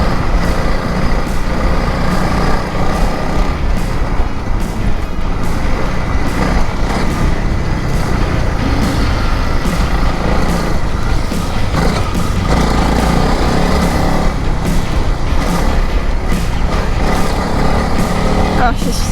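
Small trucks drive across soft sand on a beach at Rainbow Beach, their engines droning loudly and continuously with gear changes and bumps, while people talk over the noise.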